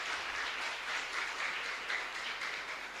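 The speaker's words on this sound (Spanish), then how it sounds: "Fuerte aplauso para el Señor entonces." Congregation applauding at a live Catholic Mass in a chapel, a steady continuous wash of clapping at moderate level with no pauses, heard alone without voices.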